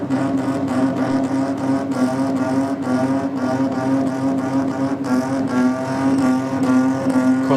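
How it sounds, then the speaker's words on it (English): A Toyota Supra race car launches off the line at a drag strip, its engine holding a loud, continuous high-revving drone with a steady pitch through the run. "Supra takes off."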